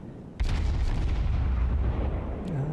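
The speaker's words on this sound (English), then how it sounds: "I'm just shooting over this island and scoring small amounts of damage" A heavy salvo from the Des Moines cruiser's guns in World of Warships booms out suddenly and rolls into a long, loud, low rumble that lingers to the end.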